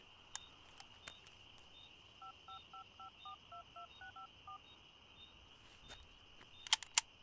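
A rapid series of electronic telephone keypad tones, about a dozen short beeps in quick succession, over a steady high hum, followed by a couple of sharp clicks.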